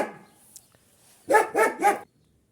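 A stray dog barks three times in quick succession, fairly close and loud, outdoors in a garden during rose pruning, after a faint quiet stretch.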